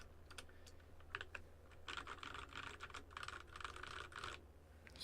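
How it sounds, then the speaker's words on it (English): Typing on a custom-built office mechanical keyboard resting on a desk mat, a quiet close series of soft keystroke clicks, sparse at first and then a dense steady run, with no talk. "I highly suggest getting a whole desk mat for the improvement of sound of your keyboard."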